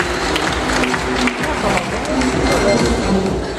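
An audience gives warm, continuous applause welcoming a company's legal director onto the stage at a legal debate event, dense clapping mixed with some voices.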